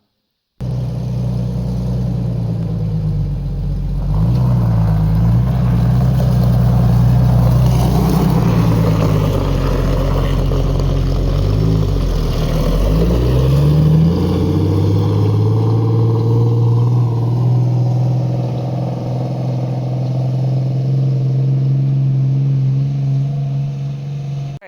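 A modified 1997 Jeep Wrangler with outboarded shocks and relocated spring perches on a test ride, its engine droning loud and steady throughout, with pitch swells as it accelerates and eases off.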